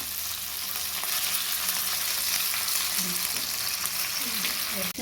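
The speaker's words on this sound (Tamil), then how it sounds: "மீன் பொரிச்சிட்டோம். நல்லா இன்னும் வெந்துக்கிட்டே இருக்குது" Fish fries in hot oil in a pan with a loud, steady, close sizzle throughout, and a voice is heard faintly under it.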